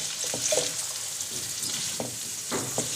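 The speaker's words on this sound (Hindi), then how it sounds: "चिकन को भी फ्राई करेंगे। इसको फ्राई करेंगे।" Chicken pieces fry in a pan for karahi, a steady close sizzle and crackle with occasional stirring scrapes and pops, no talking.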